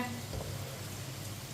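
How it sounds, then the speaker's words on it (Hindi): Steady, dense sizzling of mash dal frying in a pan, a continuous crackling hiss with no pauses. "दाल हमारी फ्राई होनी शुरू हो गई है।"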